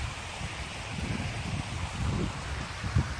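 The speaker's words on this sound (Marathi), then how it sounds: "त्यामुळे कंटिन्यू पाणी वाहणं चालू आहे." Water spills continuously over a check dam near a valley temple, making a steady, broad rushing wash at moderate distance. No voices are heard.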